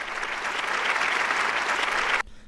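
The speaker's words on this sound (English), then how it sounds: "let's get a round of applause for that one" Applause from a late-night hip hop talk show audience, a steady dense clatter of many hands held at even loudness for about two seconds before cutting off sharply into near quiet.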